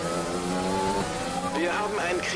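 A race car in the video game F1 2020 sliding with squealing tyres under a steady droning engine, someone talking over it throughout.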